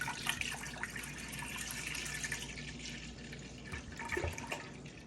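Milk pours into a large pot in a steady, continuous splashing stream, close and moderately quiet, with no talking.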